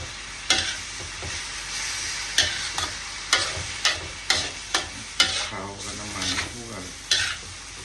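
Spinach stir-frying in a pan for chap chai, a spatula scraping and tossing in a steady rhythm of sharp scrapes over a continuous sizzle, close and with no voices.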